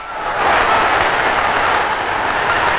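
Dense, loud crowd applause filling a large Paris sports arena, the Palais des Sports, at a 1963 featherweight boxing match, a continuous roar of clapping swelling in at the start.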